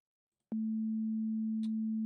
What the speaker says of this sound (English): So now we can see our sine wave